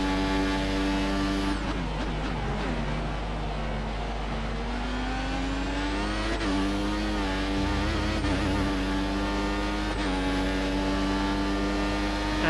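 A Formula 1 car engine in the F1 2014 racing game, held at high revs with a loud, continuous whine that rises and drops through gear changes, steady and close throughout.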